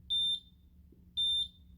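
A multimeter in continuity mode gives two identical sharp electronic beeps, each about a quarter second long and about a second apart, as its test leads touch. The beeps are clear and close over faint background hum.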